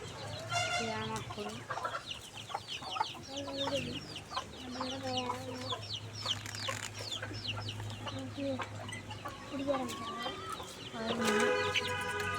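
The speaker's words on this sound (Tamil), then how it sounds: "கருங்கோழி வாங்கியாச்சு. பாருங்க எல்லாமே சாப்பிட்டுட்டு இருக்கு." Several black chickens cluck and murmur close by while feeding, with overlapping short calls and a faint crow, against steady background hum.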